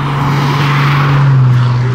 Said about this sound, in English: listen to this car as it goes by